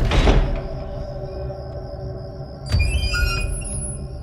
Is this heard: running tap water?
no